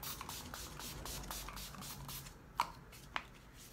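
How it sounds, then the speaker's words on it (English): Soft, quick hissing spritzes of Urban Decay All Nighter setting spray onto a face repeat in a rapid series, quiet and close, followed by a couple of small taps. "I set all this with our All Nighter Spray by Urban Decay"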